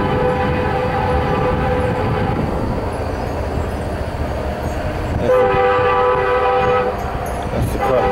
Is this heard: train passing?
yes